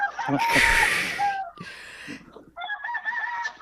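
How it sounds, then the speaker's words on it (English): A rooster crows loudly nearby in a long drawn-out call, followed by shorter clucking and a second crow, heard as the only sound in a quiet moment. "I love the rooster in the background."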